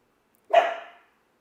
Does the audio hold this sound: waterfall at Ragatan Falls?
no